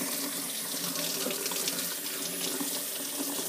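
Hot water gushes steadily from a kitchen tap into a sink, a loud, continuous splashing hiss that fills the whole moment without any talk.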